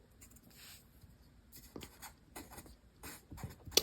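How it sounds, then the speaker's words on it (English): A marker writing a name on paper: short bursts of squeaky, scratchy strokes in an uneven rhythm, close and fairly quiet, with no talking. "write your name at the bottom right of your paper"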